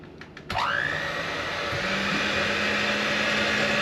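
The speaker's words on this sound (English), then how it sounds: "blend until smooth and thick" A blender starts up after a brief pause and runs steadily, whirring loud and close as it blends a cinnamon sugar mixture with melted butter, the motor's pitch settling into a constant high drone.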